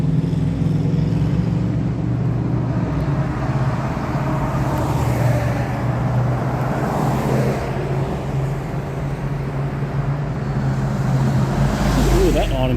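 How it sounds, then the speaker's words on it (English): Trucks and cars roll along a road beside the I-675 overpass in Stockbridge, Georgia, on a cold night, a steady broadband traffic rumble that swells and fades continuously across the whole stretch. "Trucks over here."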